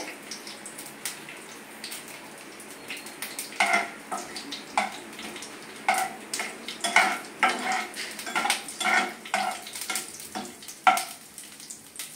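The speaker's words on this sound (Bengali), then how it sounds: "এবার এই দুটোকে একটু সটে করে নেব।" Dried red chillies and nigella seeds sauté in a pan with a soft sizzle underneath, while a utensil scrapes and clinks against the pan in irregular stirring bursts, close by and without talk.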